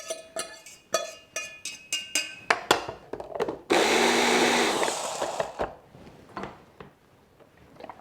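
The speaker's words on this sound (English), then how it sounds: "Now I'm going to blitz them up." A blender blitzes sautéed onions for a satay sauce: several short sharp bursts and knocks give way to a loud whirring run of about two seconds, then scattered softer clatter as it winds down.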